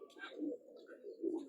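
Pigeons coo softly in a brief, low, faint burst, with no other sounds around them.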